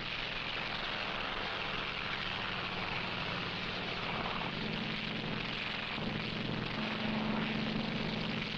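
Carrier aircraft flying in an archival wartime film, a steady broad engine drone holding at moderate level throughout, with faint low tones shifting beneath it and no talk.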